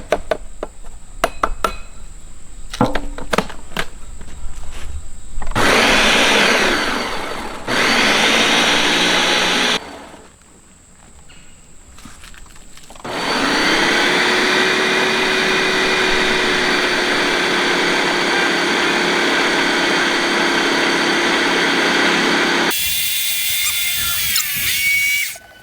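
Gingersnap cookies are ground into pie-crust crumbs in bursts of loud, close whirring machine grinding, separated by short pauses with knocks and clatter.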